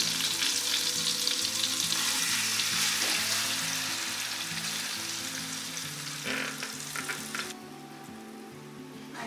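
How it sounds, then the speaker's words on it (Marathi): Marinated mutton for shahi biryani goes into a hot pan and sizzles loudly and continuously up close. The sizzle fades a little toward the end, and background music plays underneath. "आता यात आपण हे मॅरिनेट केलेलं मटण घालणार आहोत."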